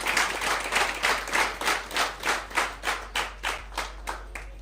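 Audience applause at a scientific computing conference, a small crowd clapping in a rhythmic, pulsing unison that swells and fades about twice per second, fairly close and alone without talk.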